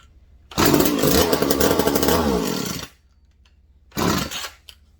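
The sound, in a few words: McCulloch Mac 110 chainsaw engine starting and running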